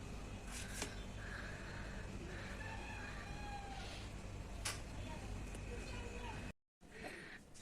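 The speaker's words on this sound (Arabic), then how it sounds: "القطة دخلت عندي الشقة اهي" A cat giving birth inside an apartment lets out faint, drawn-out meows and cries at intervals. They sit under steady low background noise and a soft murmur of voices.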